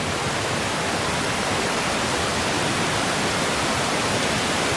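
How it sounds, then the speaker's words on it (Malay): Fast-flowing river water after heavy rain, a dense, steady broadband rush that stays loud and unbroken throughout, with no voices. "Dah laju dah air."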